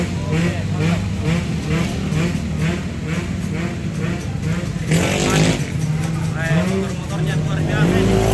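Racing motorcycles buzz loudly around the Lakipadada road race circuit at Rantetayo, engines revving and passing in waves while someone talks over the noise.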